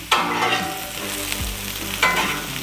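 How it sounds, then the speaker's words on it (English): Long-cut peppers and onions sizzling on a Blackstone griddle, a loud close crackling sizzle with bursts as more food hits the hot surface and scraping stirs, no talk. "So we're just gonna put our peppers and onions down."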